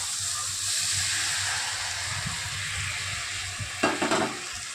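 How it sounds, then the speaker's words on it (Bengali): Spice paste of salt, turmeric, chili powder and cumin-coriander powder mixed with water sizzles loudly in hot oil for a chital fish curry, a steady hiss throughout, with a brief scrape of stirring near the end. "এবারে ভালো করে মশলাটা কষিয়ে নেব।"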